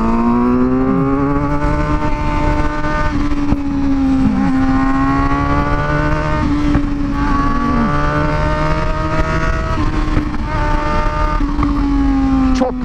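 A previously crashed Suzuki GSX-R 750 sport motorcycle revs in second gear while riding, its loud aftermarket exhaust holding a steady, strong engine tone with small rises and dips in pitch throughout.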